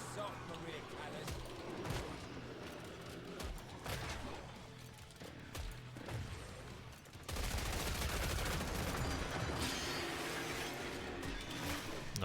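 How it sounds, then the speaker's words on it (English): Grenade launcher blasts in the co-op shooter Killing Floor 3, heavy thumping detonations and gunfire rising into a loud, dense barrage in the second half, with game noise and a voice underneath throughout. "Wait, I have a grenade launcher. Might as well use it."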